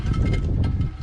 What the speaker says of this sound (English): That noise you can hear is all the stones and shit inside the brake hub